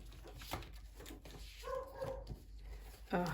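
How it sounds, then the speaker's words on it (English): A dog barks a couple of times at a moderate distance indoors, with short sharp yaps over a quiet, murmuring background. "the dog's barking"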